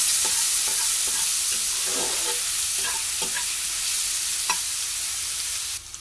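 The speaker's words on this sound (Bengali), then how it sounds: "আমি পেঁয়াজ আর রসুনটাকে একবারে কুচিয়ে নিয়েছি, এখন এটা দিয়ে দিচ্ছি।" Finely chopped onion and garlic fry in hot oil, giving a bright, continuous sizzle close by with soft stirring scrapes and taps, until the sizzle drops away abruptly at the end.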